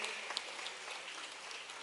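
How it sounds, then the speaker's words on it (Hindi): Audience applause at a school inauguration event in Madhya Pradesh, a steady wash of many hands clapping at moderate distance, fairly faint and even across the whole stretch. "आइए यशस्वी प्रधानमंत्री के लिए जोरदार ताली बजा के अभिनंदन करें"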